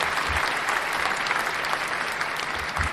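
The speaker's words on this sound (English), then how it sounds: "Round of applause for Dominic." Audience at an African Women in Games forum applauding a speaker, with a dense, steady round of clapping from a sizable crowd that fills the whole stretch.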